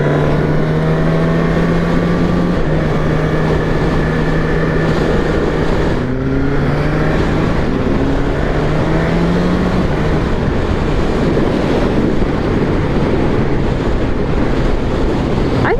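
A 2023 Suzuki Katana motorcycle out on a ride, its engine droning low under a loud, constant rush of wind buffeting the microphone, with the pitch rising and falling as it shifts.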